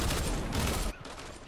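A short burst of rapid pistol shots from double pistols in Fortnite, loud and dense for under a second before cutting to quieter background.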